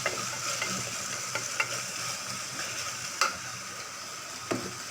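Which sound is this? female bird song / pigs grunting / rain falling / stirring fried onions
stirring fried onions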